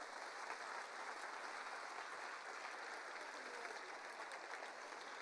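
A church congregation applauds together at an evangelical service, a steady, dense wash of clapping held at an even level for the full length, with no pauses and no voices rising above it.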